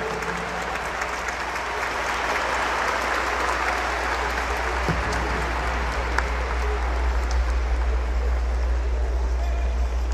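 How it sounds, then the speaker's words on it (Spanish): A concert audience in Cajamarca claps together in a dense, steady wash of applause that holds evenly and loudly throughout, with a low rumble underneath. "esas palmas para esta excelente agrupación"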